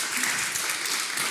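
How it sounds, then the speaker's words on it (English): An audience at a conference applauds the panelists in a short burst of dense, steady clapping filling the room. "So big round of applause."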